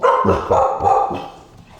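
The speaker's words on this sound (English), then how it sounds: "Oh, there's some dogs that live here." Dogs barking in a loud, close burst of about four rapid barks that fade into quieter whimpering yips, with no one talking.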